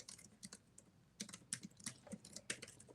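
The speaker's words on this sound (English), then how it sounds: "Homer, why are we typing in all the titles?" Steady keyboard typing on a computer, soft individual key clicks in an irregular, quick rhythm, fairly close and quiet, with no voices over it.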